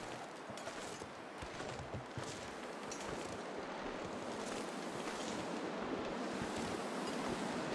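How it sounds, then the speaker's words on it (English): Steady gusting wind in the snowy wilderness of the survival game The Long Dark, a continuous broad rushing roar that holds constant and slowly swells, with no talking over it. "it's actually just the wind and not the weight after all"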